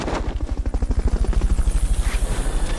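Helicopter rotor in the video game Metal Gear Solid: Peace Walker, a steady rapid chopping thump that stays loud and close throughout, with no talk.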